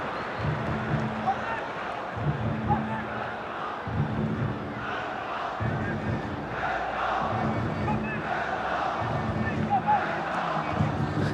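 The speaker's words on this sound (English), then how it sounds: "Certainly the Hong Kong crowd getting behind the local side." A large Hong Kong football crowd in a stadium chants in a steady rhythmic pulse, the roar rising and falling in regular waves, with a commentator's voice faintly over it.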